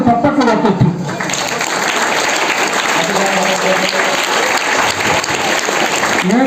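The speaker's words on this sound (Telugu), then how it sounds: "వారికి మనందరూ చప్పట్లు పెట్టచ్చు." A school audience at ZP Boys High School applauds for Shyamadas, the clapping swelling up after a brief voice at the start and then continuing as a full, sustained burst from the crowd.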